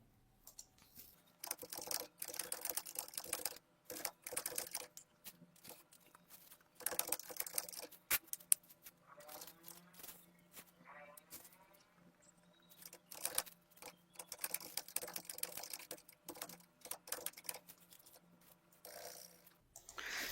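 Typing on a computer keyboard, heard as quick clattering bursts of keystrokes separated by short pauses, close and fairly quiet, with no talk.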